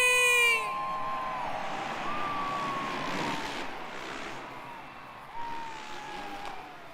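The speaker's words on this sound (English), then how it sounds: "I want to hear each and every one of you scream!" A packed Monster Jam Freestyle Mania arena crowd in Greensboro, North Carolina screams in a loud, sustained roar for about seven seconds, with a brief tonal siren-like sweep at the start.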